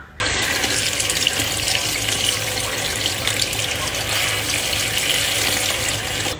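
Mushrooms are washed under a running tap, a strong, steady gush of water splashing into a sink that starts abruptly and stays constant until it cuts off near the end.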